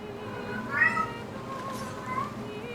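A cat meows twice in the background, faint and distant, over a steady hum and a low murmur of talk.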